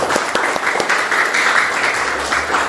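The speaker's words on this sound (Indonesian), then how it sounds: "Tepuk tangan sekali lagi ya." Applause from an audience at an Indonesian teacher-training mentoring session, a dense sustained clatter of many hands clapping at steady loudness, with a few sharper individual claps standing out.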